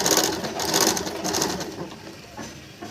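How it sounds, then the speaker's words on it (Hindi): A sewing machine runs over thick, bulky kurti fabric, a short whirring stitch burst close by that fades toward the end. "अभी इसके ऊपर मैं मशीन चला दूंगी"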